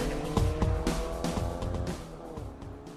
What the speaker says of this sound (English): The roar of the engine drowned out by the roar of the crowd chanting your name.